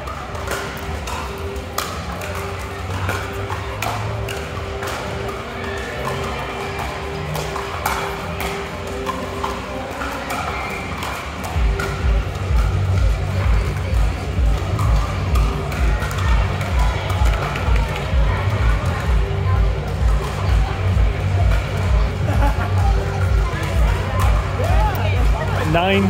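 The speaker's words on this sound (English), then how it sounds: "that is the music very loud next door at the championship court" Loud, steady thumping bass music pulses from the neighbouring championship court at a pickleball national tournament, growing heavier and more insistent midway, with crowd murmur and paddle taps around it.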